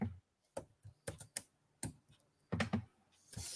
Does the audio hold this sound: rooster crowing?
no